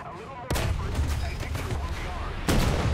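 Heavy gunfire in a War Thunder battle during an event pitting exoskeleton combat suits against tanks, a sharp blast opening into sustained rumbling fire, with a second loud shot near the end.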